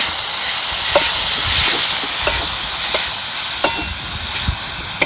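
Green chili chutney sautéing in hot oil, a steady close hiss and sizzle with occasional scraping stir clicks, no talking.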